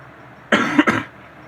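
A single close cough in two quick bursts, rough and breathy, standing alone against a quiet background.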